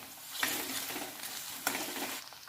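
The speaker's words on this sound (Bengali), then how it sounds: "এবার আমি 1 চামচ আদা রসুন দিয়ে দিলাম" Ginger-garlic paste sizzles and fries steadily in hot oil with fried onions in a pan, a continuous close crackle with brief stirring scrapes, no talking.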